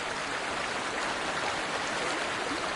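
Water released from the cleared Mau forest pours freely down into the valley as a steady, dense rushing wash, close and unbroken, with no voices.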